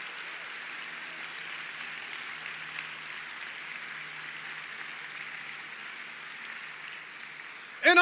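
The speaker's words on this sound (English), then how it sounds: "y'all please give them a round of applause" Audience applauding county employees at a State of the County address, a soft, steady wash of distant clapping throughout, with a sharp louder burst at the very end.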